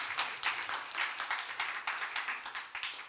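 A youth church audience claps in a quick, fairly faint round of applause, with each burst of hand claps sounding soft and slightly distant.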